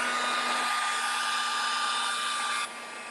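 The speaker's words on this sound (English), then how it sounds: "Probably need to dry this because it's going to, some of it's still a little bit wet. So let me dry it." A hair dryer blows steadily on still-wet lettering, a loud continuous whoosh with a constant whine that drops slightly in level near the end as the airflow shifts away.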